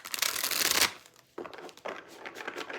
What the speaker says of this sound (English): They're saying shuffle the deck